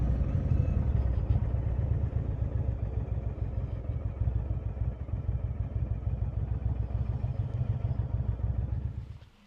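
An Indian Springfield motorcycle on the road, its engine giving a steady, loud low rumble with rattling texture that holds throughout and cuts off abruptly at the very end.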